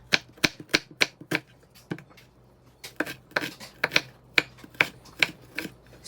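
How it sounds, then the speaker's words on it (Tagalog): A knife slices an onion into small pieces on a cutting board while pork boils for sisig: a slow, uneven series of crisp, close taps and clicks with short pauses between cuts. "Tapos habang pinapakuluan ko yung mga pork, nag-slice naman ako ng onion."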